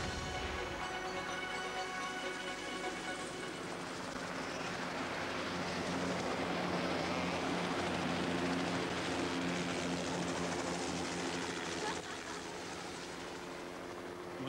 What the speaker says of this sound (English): We're looking now at my favourite toy here, Martin, the helicopter.